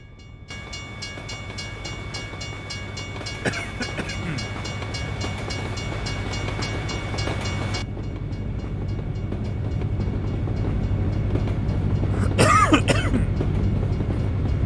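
A train rolls past in a video game, a steady rumbling clatter of wagons that builds gradually, with a brief throat clearing near the end.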